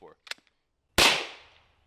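A single sharp pistol shot cracks loudly nearby after a few faint handling clicks, followed by a short decaying echo.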